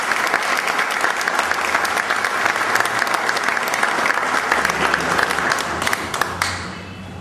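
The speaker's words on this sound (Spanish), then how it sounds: "Les pido un aplauso para ellos." An audience applauds at a book presentation with dense, energetic clapping that stays loud and steady for several seconds, then quickly fades to a few scattered claps.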